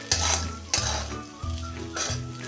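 Sabudana khichdi sautéing in a pan after chili powder goes in, a steady sizzle with four loud stirring scrapes spaced evenly, close and clear with no talk.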